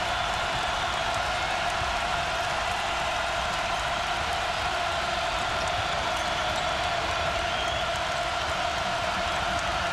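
Crowd in a college basketball arena at Nebraska versus Kansas, a steady broad roar of many voices filling the hall throughout, loud and sustained with no clear single voices.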